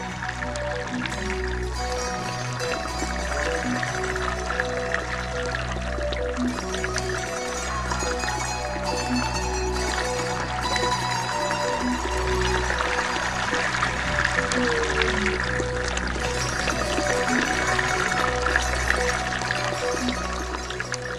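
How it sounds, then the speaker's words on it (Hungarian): Water poured repeatedly over freshly harvested poppy seeds in a container to wash off dirt, a steady, close running and splashing pour with small drips, continuous and alone throughout. "Addig öntik le róla az újabb és újabb vizet, míg fel nem jön a felszínre a legkisebb piszok is."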